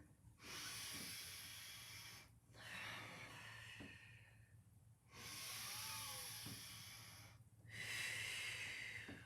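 Audible breaths in and out during a Pilates exercise, four long airy exhale-inhale cycles with brief quiet gaps between them, close and steady, with no talking.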